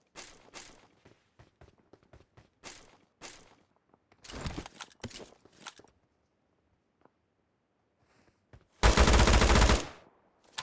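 Gunfire in PUBG Mobile: scattered single shots and short bursts, then a sustained loud, close automatic volley near the end, with quiet gaps and soft footsteps between.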